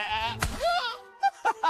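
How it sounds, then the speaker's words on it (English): A goat bleats close by, one long wavering cry followed by three short bleats near the end. "Okay, so here's this new goat."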